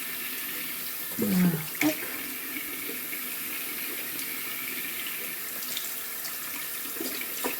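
Water runs steadily from a bathroom tap while a face is rinsed after makeup removal, a continuous hiss with splashing near the start and a few soft words spoken.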